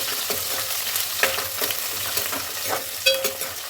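Meal maker soya chunks frying with onion pieces in a pan, a steady sizzle with scraping spoon strokes stirring at irregular intervals, close up and without talk.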